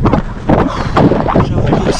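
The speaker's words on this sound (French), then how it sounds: "On a un vent de face assez glacial." An icy headwind buffets the microphone while bikepacking on a gravel ride in Flanders. The rough, gusting roar is loud and close, rising and falling in waves.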